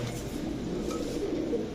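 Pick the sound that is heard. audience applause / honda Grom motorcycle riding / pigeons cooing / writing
pigeons cooing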